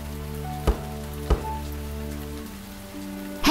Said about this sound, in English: The wind is strong and the rain heavy.